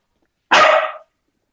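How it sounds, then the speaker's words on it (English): One loud, close dog bark, a single sharp burst about half a second long, set against silence before and after. "that's your dog"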